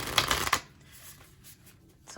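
Tarot cards shuffled by hand in a quick, close riffling flurry lasting about half a second, followed by near quiet.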